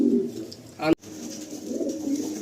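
Racing pigeons in a loft coo softly in low, rolling murmurs, with a brief sharp rustle or flap in the middle before the cooing resumes.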